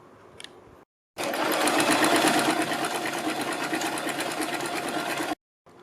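A sewing machine stitches a strip onto a kurti sleeve, starting abruptly and running in a steady, fast, buzzing whir for about four seconds before stopping cleanly.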